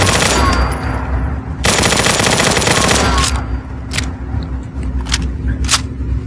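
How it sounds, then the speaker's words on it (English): Machine gun fire in Fallout 4 with a modern weapon pack, loud rapid controlled bursts, a sustained stretch of fire then a pause and a few short separate shots near the end. "A very controlled machine gun."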